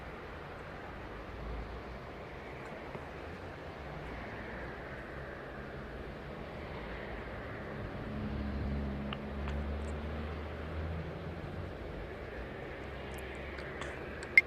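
Simulated Qantas Airbus A330 landing on runway 34 at Melbourne in an airport control game, a steady low jet-engine rumble that swells slightly mid-clip, with faint chatter in the background.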